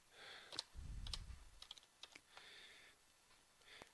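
Keys clacking in quick irregular bursts on a computer keyboard while entering a web address, close and fairly quiet, with a short low thump partway through and no voices.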